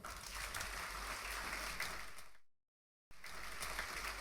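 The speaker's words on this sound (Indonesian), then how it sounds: "Beri tepuk tangan." Church congregation applauding, a dense crackle of many hands clapping at a steady level, breaking off abruptly into a brief silence before resuming just as full.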